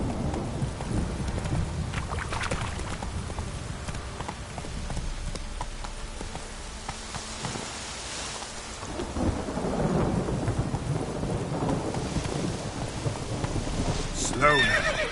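Roach, a horse in The Witcher video game, gallops with rhythmic hoofbeats and whinnies loudly amid rolling thunder and rain, while a voice speaks over the action.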